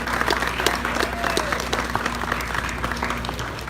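Applause from a crowd celebrating a YouTube channel's 100k subscriber milestone, a steady, dense patter of many hands clapping that holds evenly from start to finish.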